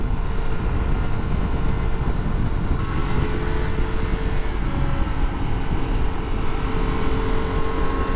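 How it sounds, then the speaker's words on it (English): A three-cylinder triple motorcycle engine cruising along back roads, a steady dense drone with wind rush blended in, loud and continuous for the whole stretch with no speech. "I do love the sound of the triple on these back roads."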